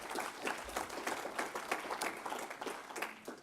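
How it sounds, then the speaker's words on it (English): Applause from the audience at an open panel discussion on high performing workplaces, a moderate burst of many hands clapping with a lively, uneven rhythm, fairly close and continuing for a few seconds. "Round of applause for Stephen."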